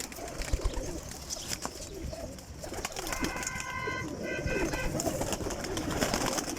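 Pigeons coo in a rooftop loft holding about 145 birds, soft repeated cooing murmurs blending under a steady outdoor hiss with scattered wing flutters and small knocks, no talk.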